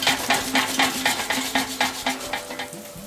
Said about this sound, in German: In etwas Olivenöl die Zucchini-Scheiben in einer zweiten Pfanne von beiden Seiten leicht anbraten, salzen und pfeffern.